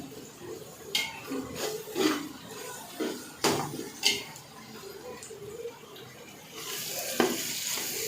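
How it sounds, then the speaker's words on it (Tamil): Onions sautéing over a low flame during home cooking, a quiet ongoing sizzle broken by several sharp utensil scrapes and pan clinks from stirring, with a brighter hiss rising near the end. "நல்லா பொன்னிறம் ஆகணும் அந்த மாதிரி வெங்காயம்னா ரொம்ப முக்கியமாக முடிஞ்ச அளவுக்கு வெங்காயம் சிம்மில் வச்சு வதக்குனீங்கன்னு"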